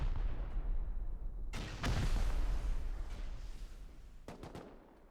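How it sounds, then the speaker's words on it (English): Rockets fired during a Rust 4v4 base-raid tournament, with heavy booming launches and explosions over a rumbling background, followed by a few sharp cracks near the end. "a team shooting pointless rockets"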